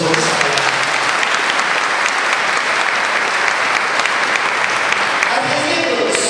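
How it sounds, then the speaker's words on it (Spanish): A church congregation applauds during a sermon, sustained loud clapping filling the room evenly for several seconds, with faint voices mixed into the crowd noise. "Denle un aplauso al Señor"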